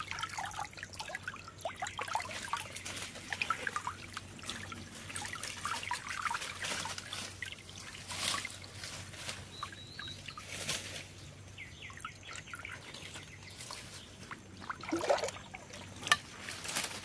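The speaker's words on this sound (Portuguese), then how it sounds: "Tenta abrir ali. Que a água vai descer. É, olha, já tá descendo um pouquinho." Water trickling and draining from a spring in a Brazilian forest, a soft continuous gurgle with scattered splashes and drips, faint birds in the background.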